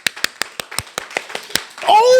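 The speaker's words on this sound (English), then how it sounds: "Can I get a round of applause," A short burst of sharp claps, about a dozen evenly spaced hits, ending in a sustained tonal swell.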